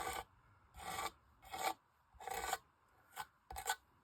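Texture paste scraped across a printable surface, a rasping drag repeated in six separate strokes of steady rhythm, close up and fairly loud with short pauses between them, no voices.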